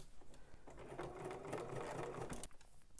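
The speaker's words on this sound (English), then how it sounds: "go ahead and start at your marking, back stitch at the beginning and the end" A sewing machine stitches a pocket seam with a steady, close whirring hum and a brief pause, heard alone with no talk.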